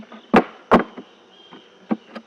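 Honeybees in an open hive during an inspection give a low insect buzz, broken by a few sharp knocks and bumps close to the microphone.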